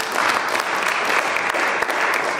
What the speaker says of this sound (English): let's give a final clap to our panelists